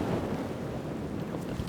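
Steady, blustery wind on a lake buffets the microphone with a low, continuous rumble, with faint water sounds beneath it.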